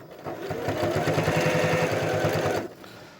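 A sewing machine runs in one steady burst of rapid stitching, laying binding on a stars and swirls quilt close to the very edge, near and fairly loud, then stops abruptly.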